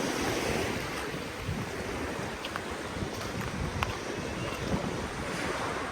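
Sea waves wash continuously onto a beach at Nador, Morocco, with a steady roar of surf, mixed with gusty wind buffeting the microphone.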